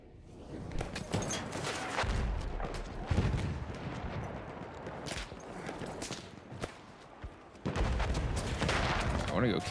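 Rapid gunfire in the Battlefield 1 video game, bursts of machine-gun and rifle shots cracking in clusters with short gaps, loud and close, with footsteps and a faint voice underneath.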